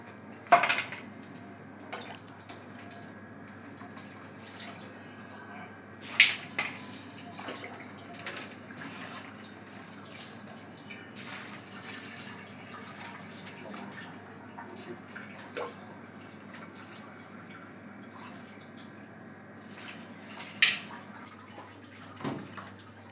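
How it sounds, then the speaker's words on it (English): Metal utensils clatter and scrape against a large pot while cooked mutton is separated from yakhni stock for a giant biryani, with a few sharp knocks over a steady watery background. "we're going to separate the meat and the yakhni"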